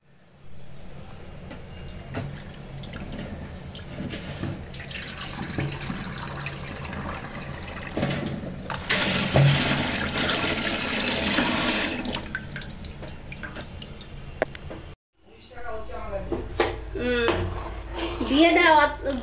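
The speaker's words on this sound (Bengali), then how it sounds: "চলো তাহলে ডিমটাকে আমি ধুয়ে নিই।" Tap water runs into a bowl while fish roe is washed, a steady splashing stream that grows louder partway through, stops briefly, then resumes, with people talking over it.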